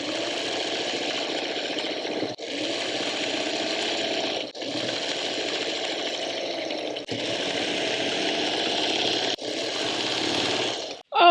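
Sewing machine stitching a quilt block row in long steady whirring runs, separated by brief pauses, close and fairly quiet with no talking.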